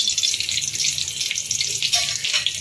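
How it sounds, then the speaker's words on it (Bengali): Whole spices (cardamom, cinnamon, cumin and a bay leaf) frying in hot oil in a pan, a steady bright sizzle with small crackles, close and continuous, no voices. "ওই 30 সেকেন্ড মতো সময় নিয়ে ফোড়নটাকে ভালো করে ভেজে নেব"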